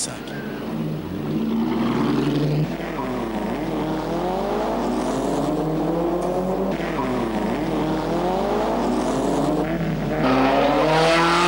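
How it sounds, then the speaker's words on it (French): Vintage 1957 race cars, including a Bentley 3 litre driven at the limit, roar continuously and loudly with rising and falling engine notes as they pass, with a surge near the end. "Hollis est à la limite avec sa Bentley 3 litres"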